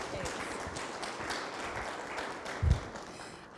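People in a meeting room give a round of applause, a dense spread of hand claps that holds steady for a few seconds before thinning out, with one louder nearby clap near the end.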